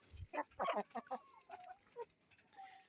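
Several chickens clucking close by in quick, uneven bursts, followed by softer drawn-out calls, with quiet background.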